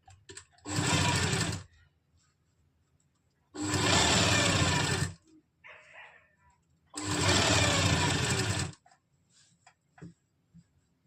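Sewing machine stitching an Afghani salwar, three separate bursts of rapid mechanical clatter, each lasting about one to two seconds, with quiet fabric handling between them.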